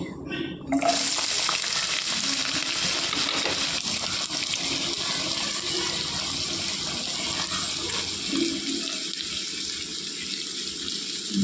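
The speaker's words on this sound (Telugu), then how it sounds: "ఇప్పుడు ఉల్లిపాయలు పచ్చిమిర్చి వేసుకోవాలండి." Onions and green chillies hit hot oil with a sudden burst, then a steady, dense hiss of frying carries on evenly and close by, with no voices.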